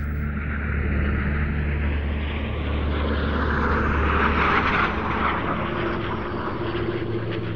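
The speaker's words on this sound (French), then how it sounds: "L'avion de chasse chinois plonge vers la mer." A damaged Chinese fighter jet dives toward the sea after striking an American P-3 plane. Its engine gives a loud, steady roar that swells slightly midway, with no voices.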